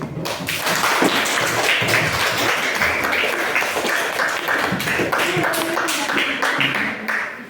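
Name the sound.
classroom applause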